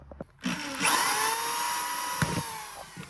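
A power drill whirs steadily for a few seconds, boring into a hard plastic water tank with a high, grinding whine, close by and loud.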